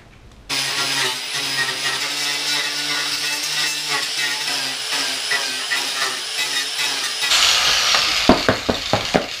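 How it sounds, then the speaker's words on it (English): An angle grinder works metal on a Nissan 240sx fender being modified into a wide metal fender, a loud continuous whine held for several seconds before it spins down with a few knocks and clatters. "what I'm gonna do now is just grind down this area right here"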